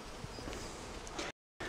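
Bees buzz in a soft, steady drone around an open Flow hive during a frame inspection, faint and continuous before a short dropout.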